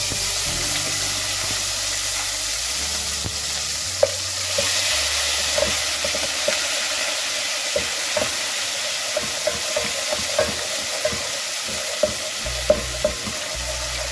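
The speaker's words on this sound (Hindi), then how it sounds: "अब मैं इसमें लहसुन अदरक का पेस्ट डाल रही हूँ।" Garlic ginger paste sizzling and frying in hot oil, a steady loud hiss with frequent stirring clicks and scrapes of a spoon against the pan, no voices.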